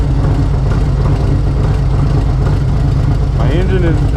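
Motorcycle engine idling loudly and steadily nearby with a constant low throb; a brief whirring chirp rises near the end.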